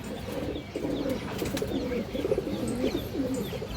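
A Dobas pigeon coos in a steady run of low, throaty, rolling calls, close by and fairly loud, with no voices over it.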